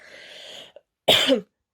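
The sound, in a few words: cough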